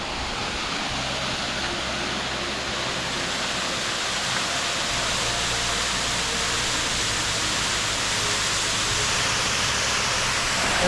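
A big multi-tiered waterfall in South East Queensland, Australia, pouring as a constant broadband rush of falling water, steady and fairly loud throughout with no voices.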